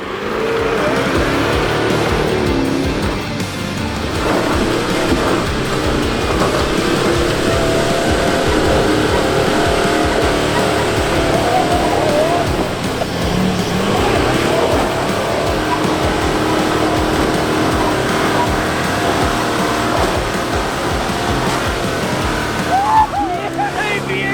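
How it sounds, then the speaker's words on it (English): A big 200 four-wheel drive labours up a wet, greasy, slippery High Country track in Victoria, its engine roaring loudly and continuously for the whole stretch. "It was now time for the big 200 to give this wet and greasy climb a go."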